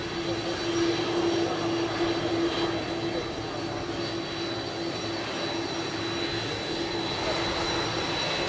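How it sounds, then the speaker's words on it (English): A large jet airplane taxiing at Palm Beach International Airport, a steady loud engine whine and roar with a sustained hum, heard from fairly close and unbroken throughout. "a large airplane taxiing at Palm Beach International Airport"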